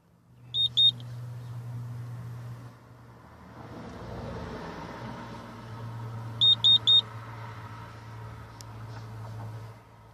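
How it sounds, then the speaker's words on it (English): A Pacific Rim intrinsically safe man-down pendant gives a quick burst of three high beeps, then after a pause another triple beep. A low steady hum runs underneath, with faint rustling in between. "once it's acknowledged, then it will beep a few times just to say that it has been acknowledged"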